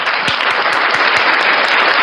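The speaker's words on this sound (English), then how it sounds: "Let's applaud these beautiful fucking women." A large audience breaks into loud, sustained applause, dense overlapping hand claps that continue steadily with no talk over them.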